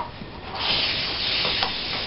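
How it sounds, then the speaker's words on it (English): A short, steady hiss of cooking oil spray from an aerosol can, close by and moderately loud, with no talking. "I am going to get some cooking oil spray though."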